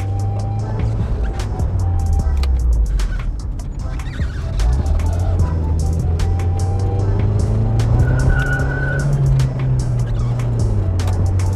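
An Opel Astra F is driven through a series of corners. The engine note hums close and steady, dips, then climbs and falls as the car accelerates between bends, with faint road noise underneath.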